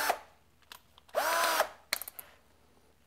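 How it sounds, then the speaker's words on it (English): A power drill drills out a stripped threaded hole in an RC car part, whirring in one sustained burst of about half a second, with a pitch that bends as it bites, between short scattered knocks and clatter. "I'm going to drill out that hole."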